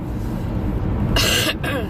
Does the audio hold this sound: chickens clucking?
no